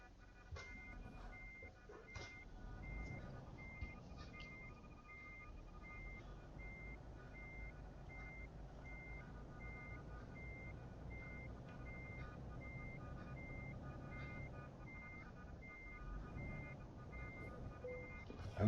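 A heavy truck in Euro Truck Simulator 2 gives steady, evenly spaced reversing beeps that go on throughout and are heard faintly over a low engine rumble.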